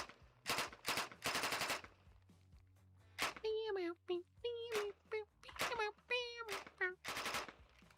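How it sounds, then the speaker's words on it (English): Bursts of video game machine pistol fire chambered in 9x18 Makarov, shooting at targets: rapid full-auto strings and single cracks, loud and close, each followed by ringing metallic tails of hit targets. "it is a machine pistol, so why not give us a couple of targets?"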